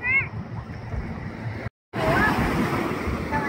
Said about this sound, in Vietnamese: Chiều nay sóng êm quý vị.